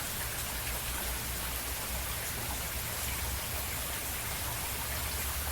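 Rain falls steadily as an even, soft hiss of drops spread across a surface, quiet and continuous throughout, with no voices or other sounds.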